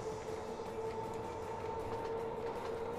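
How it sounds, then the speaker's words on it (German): S-Bahn commuter train rolling through the Train Fever game world, a steady loud rumble with a sustained tonal whine running unbroken for the whole stretch, no voices over it. "Eine S-Bahn. Eine richtige S-Bahn."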